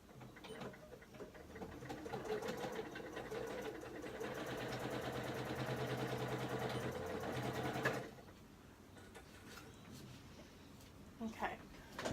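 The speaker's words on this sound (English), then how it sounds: "I'm going to sew from one corner to the other" A sewing machine stitching across a dress fabric from corner to corner, a fast even mechanical whir for about eight seconds before it stops, leaving quiet handling noises.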